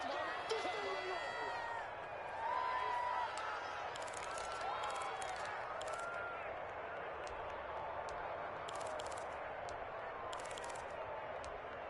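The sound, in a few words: crowd noise in Madden NFL 21 video game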